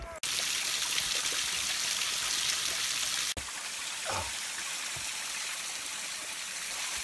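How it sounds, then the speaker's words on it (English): A steady, full rush of falling water roars continuously, loud and close, with a brief dropout partway through. "We're here at a waterfall near where we're filming."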